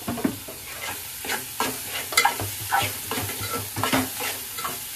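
Chicken liver fries in a pan with asafoetida as it is stirred, giving a steady close sizzle broken by repeated scraping strokes, with no talking.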